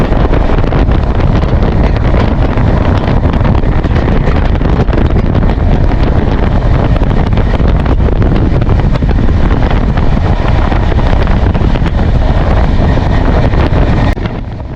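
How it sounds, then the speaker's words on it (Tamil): Shalimar to Thiruvananthapuram Central express train rushing past at high speed, a loud, dense roar of wheels and wind buffeting that stays steady throughout before easing slightly at the very end. "சும்மா பிச்சுக்குதுங்க, செம ஸ்பீடு வண்டி."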